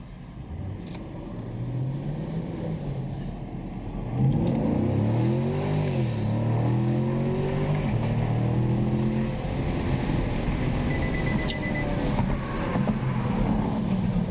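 A 2018 Chevrolet Camaro SS with a 455 hp engine accelerates during a test drive, its deep engine note climbing in pitch through several rising sweeps as it pulls hard, heard steadily from inside the car.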